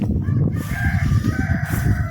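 A rooster crows loudly and close inside a chicken coop, one sustained call filling the short moment alone.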